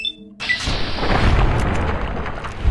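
A gun explodes as it is fired in the video game Fallout: New Vegas. A loud, booming blast with a rumbling, crackling tail rolls on for a couple of seconds.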